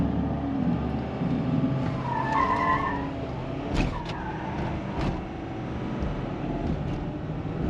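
A 2022 Ford F250 truck launches hard from a standstill with traction control on during a 0-60 test, its engine roaring under load with a brief tire chirp, sustained and fairly loud as it pulls away.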